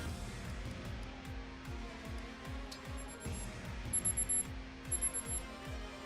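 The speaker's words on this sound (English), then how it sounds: "I don't know if you hear my alarm going off." An alarm clock beeps in the room in short repeated bursts, about three clusters of rapid high beeps, over a steady low rumble of racing-game car engines.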